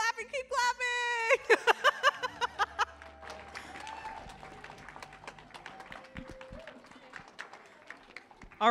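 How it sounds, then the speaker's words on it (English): Church congregation at a worship service clapping in a fairly quick rhythm, opening with a voice speaking excitedly, then continuing claps of varying loudness that thin out toward the end. "Ooh, keep clapping, keep clapping!"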